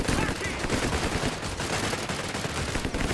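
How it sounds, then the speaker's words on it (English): Automatic gunfire in the World War II strategy game Company of Heroes 3: dense, rapid, overlapping bursts of machine-gun and rifle fire that crackle steadily at close range throughout. "Oh, nice nade on the Panzergrenadiers with an automatic fire."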